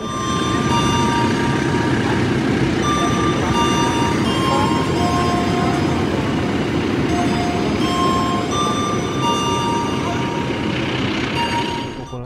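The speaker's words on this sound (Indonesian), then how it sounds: "Kereta api Kahuripannya sudah diberangkatkan kembali dari stasiun Madiun" Kahuripan passenger train pulling out of Madiun station, a steady loud rumble of wheels and carriages with faint high squeals, running continuously throughout.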